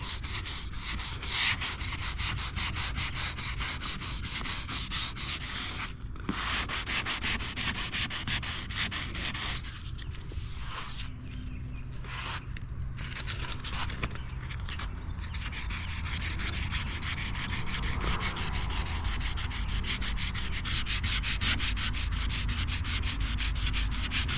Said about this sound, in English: I could just lightly hit these with 320 grit and you won't even see those